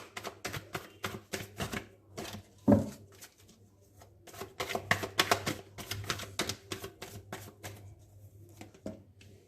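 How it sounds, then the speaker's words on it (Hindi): Tarot cards are shuffled by hand at close range, a quiet series of riffling flicks and soft slaps in irregular bursts. "ओके चलिए अब डिवाइन मैस्कुलिन के कार्ड्स निकालते हैं।"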